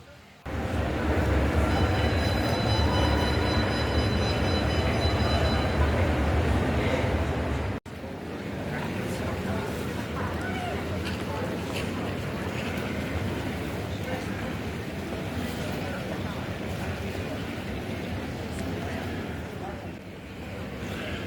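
Steady low rumble of Birmingham New Street railway station, a loud train hum at first then a quieter hall murmur with distant voices and footsteps.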